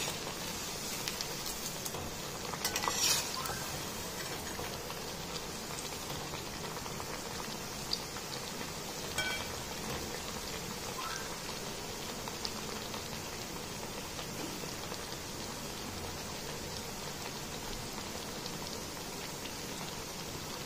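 Corn fritters (makka vada) fry in a pan, giving a faint, steady crackle and bubbling sizzle throughout, with a few brief clinks early on and no talking.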